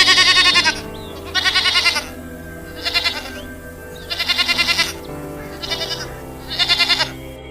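Several goats bleat in repeated bursts, about six distinct calls spaced across the span, fairly close and loud with quiet gaps between, no talking.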